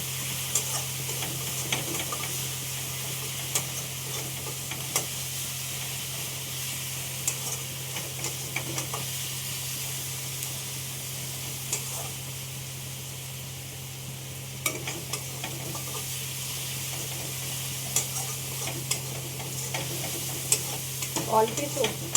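Spices and chili sizzle steadily in a little oil for onion prawns, a constant close frying hiss with occasional soft stirring clicks and no talk.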